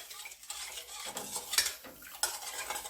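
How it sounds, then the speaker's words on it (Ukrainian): A spoon scrapes and clinks around a bowl while mixing sugar into ingredients for Christmas sweet bread, short uneven strokes, quiet and close, with no talking. "Також все перемішую."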